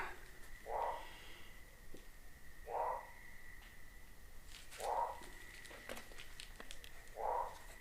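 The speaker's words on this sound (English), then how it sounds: "That's a frog." Four evenly spaced, short, low croaks from a frog near a backyard pond, each about two seconds apart, quiet against a soft steady hum.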